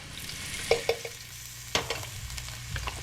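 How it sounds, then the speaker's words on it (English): Garlic hits hot olive oil in a pan, giving a soft sizzle broken by a few sharp pops and stirring scrapes, close and fairly quiet over about three seconds. "To the olive oil, we're gonna add some garlic"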